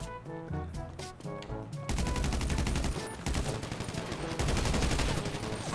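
Heavy gunfire in GTA V Online, several shooters firing at once: dense rapid bursts of shots that start sparse and then become a loud, nearly continuous barrage.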